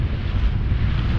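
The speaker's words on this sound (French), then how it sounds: "Il fait quand même beau malgré qu'il y ait ce petit vent" Steady low wind buffeting a microphone on a small boat during a lure-fishing outing off Marseillan, a continuous rumbling gust with no voices.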